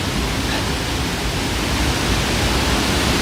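A river rushing at a waterfall, heard as a loud, dense and unbroken roar of water that fills the whole moment with no pauses or voices.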